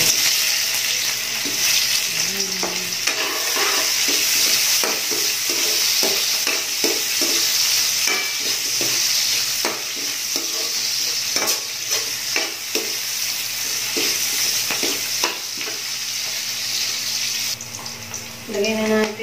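Chicken feet adobo with coconut milk sizzles loudly in a pan as it is stirred, a steady frying hiss broken by repeated scraping and clinking strokes of the utensil, with a short louder clatter near the end.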